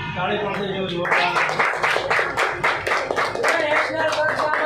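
Parents and audience applaud children winning skating medals and trophies in Palitana, with a steady run of many hands clapping close by while someone talks over it.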